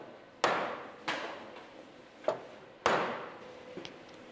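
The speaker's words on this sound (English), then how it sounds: "Use the mallet." Mallet blows on a clamp fitted to an extended Lagonda car chassis during coachbuilding work: four sharp, moderately close taps spaced irregularly, each ringing briefly with a metallic decay.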